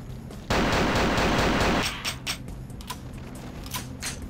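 SPAS shotgun fired at close range in Vampire: The Masquerade – Bloodlines, one loud broadband blast lasting over a second, followed by scattered clanks and game noises.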